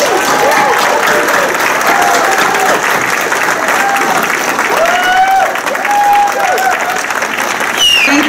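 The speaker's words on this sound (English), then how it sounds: "And so without further ado, let's give a round of applause to Bo." An audience at a Hmong community celebration applauds loudly and steadily throughout, a dense wash of clapping with some cheering and voices mixed in.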